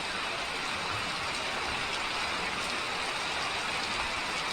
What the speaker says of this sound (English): Now it's finally a downpour.